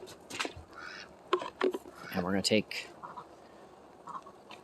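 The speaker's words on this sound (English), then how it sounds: "the quack quack ducks, they seem to like it out here" Ducks on a foggy farm quack in short nasal bursts, moderately near, mixed with someone talking over them.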